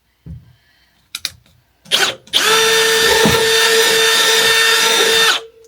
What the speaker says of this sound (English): I could use a bigger drill bit,